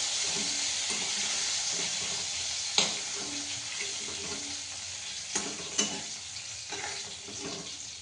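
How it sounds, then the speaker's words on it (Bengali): Chicken pieces frying in oil for homemade pizza, a bright steady hiss close by with a handful of light stirring knocks and clicks, no one speaking. "একটু বড় বড় পিস রয়েছে, তবে ওকে তুলে নিয়ে ভেজে করি"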